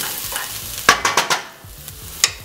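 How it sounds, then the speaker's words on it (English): Onions being stirred in oil in a pan while cooking manicotti, a low sizzle broken by a quick run of four spoon scrapes and clacks, then another knock near the end. "give everything a stir"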